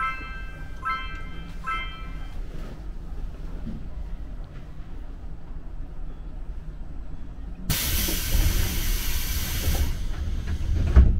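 Busan Subway Line 1 train pulling away after its doors close, a low rumbling carriage drone with faint chimes early on, then a loud sudden burst of hissing air partway through, heard from inside the car.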